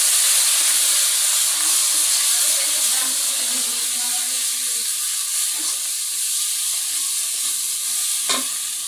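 Spices sautéing in a pan in a home kitchen, giving a steady, close sizzle with soft hissing throughout and occasional stirring scrapes, with no talking.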